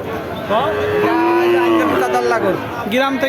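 Cattle moo at a busy livestock market selling small heifer calves for farming, a drawn-out bellow rising over steady crowd chatter and nearby talking voices.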